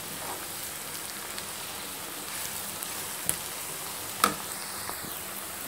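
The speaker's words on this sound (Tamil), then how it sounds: "நல்லா இதை ப்ரௌன் கலராக வர்ற வரைக்கும் இதை வந்து நம்ம நல்லா பொறிச்சு எடுத்துக்கலாம்" Sliced onions frying in oil until brown for a chicken leg tikka masala gravy, a soft steady sizzle with a few faint pops and crackles, alone.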